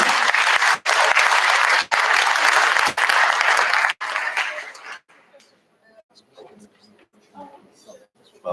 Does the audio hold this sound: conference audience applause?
yes